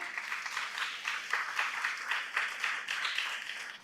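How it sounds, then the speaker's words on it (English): Soft applause from the audience at an interfaith youth forum on ecology, welcoming a panelist: a faint, even patter of many hands clapping at a distance, steady and without distinct individual claps. "A round of applause to her."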